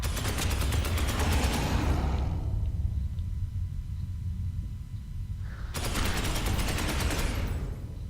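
Gunfire in Space Hulk Ascension: two long stretches of dense, rattling automatic fire, separated by a few seconds of low rumbling lull, loud and close, without speech.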